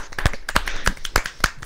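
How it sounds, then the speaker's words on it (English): A short run of sharp claps, roughly six distinct hits spaced irregularly, thin and close like a few hands clapping rather than a crowd. "Round of applause. There we go."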